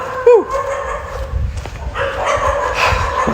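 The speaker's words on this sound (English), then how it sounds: "Lots of dogs here with some stories to tell" Dogs at a Thai dog shelter, a sharp yip near the start, then scattered barks and whimpers against busy background noise.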